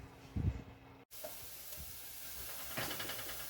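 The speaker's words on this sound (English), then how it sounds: "I'm sauteing the onion and the green peppers. I put a little bit of olive oil in there" Onion and green peppers sauteing in olive oil in a pan, a steady soft sizzle and hiss after a brief break near the start, faint and close with no talking.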